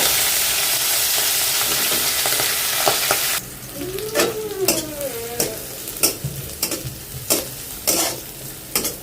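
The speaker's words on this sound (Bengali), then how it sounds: "ইলিশ মাছগুলো আগে ভেজে নিই" Hilsa fish fries in hot oil with a loud, dense sizzle, which then settles into softer crackling broken by repeated scraping and stirring clinks.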